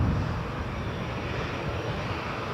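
An airplane takes off at Toronto Pearson Airport, its engines a loud, steady, broadband roar that holds unbroken from start to finish with no voices over it.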